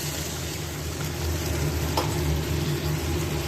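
Masala sizzling in a pan for prawn curry as water is poured in, a steady close hiss and crackle running throughout, with a brief sharper spurt midway.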